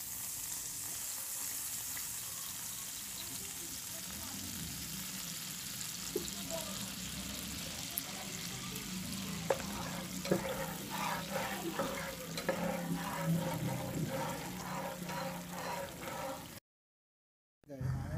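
Butter and soy sauce sizzle in a pan while pansit canton cooks, a steady frying hiss with popping bubbles, close by, with a voice talking over part of it before the sound briefly cuts out.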